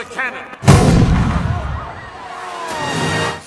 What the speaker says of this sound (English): You may begin at the sound of the cannon.